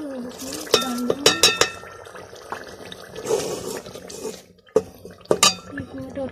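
Rice being washed by hand in water in a home kitchen while making lassi kadhi, with sloshing, splashing and a few clinks of grains and vessel, broken by short pauses, close and moderately loud, with someone speaking faintly at times.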